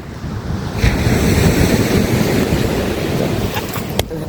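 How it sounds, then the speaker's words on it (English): Strong wind blowing on an Irish shoreline while fishing for smooth hound, a loud continuous roar of gusts buffeting the microphone over surf, with a few faint clicks near the end. "The wind is not our friend today, I have to say."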